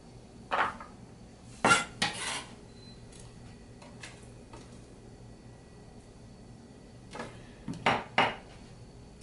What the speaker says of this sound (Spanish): Junto todas las ramitas ahí y lo mismo que la zanahoria, vamos cortando en cuadrados.